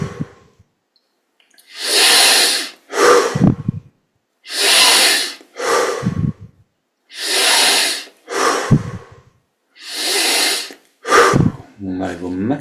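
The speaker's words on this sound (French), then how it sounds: "On augmente maintenant l'amplitude des respirations." Deep meditative breathing during a guided yoga exercise: long, loud, airy inhales and exhales repeat in a slow steady rhythm, close to the microphone, with short breaks between breaths.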